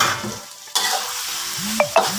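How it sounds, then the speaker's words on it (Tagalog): A spoon scraping and stirring chicken curry seasoned with curry powder in a hot pan, with steady sizzling underneath and a couple of metallic clinks near the end, close and fairly loud. "So, haluin lang po natin ng haluin lang po"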